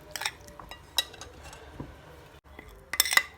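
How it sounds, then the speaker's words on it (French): A utensil stirs an olive oil marinade in a bowl, giving light clinks and scrapes against the dish at irregular intervals, quiet and close, with a brighter cluster of clinks at the end. "On mélange notre petite marinade."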